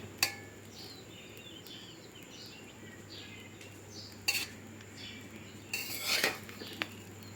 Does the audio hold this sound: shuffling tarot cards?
no